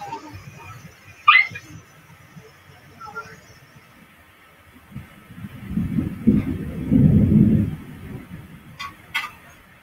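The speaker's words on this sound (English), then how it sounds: "It's not really raining, though. It's a lot of thunder." Thunder rolls during a storm outdoors, a low rumble that swells and then fades midway, with quieter voices and small sounds around it.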